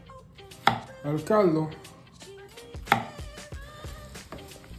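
A knife slices squash into medium rounds on a cutting board for chicken soup, giving sharp, separate chops at an irregular pace, with brief speech heard in between.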